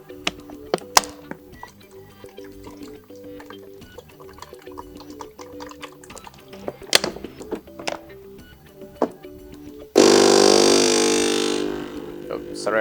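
Philips LatteGo EP5545/70 coffee maker during first setup: faint clicks and ticks under talk, then a sudden loud, steady pumping and heating noise from the machine that runs to the end.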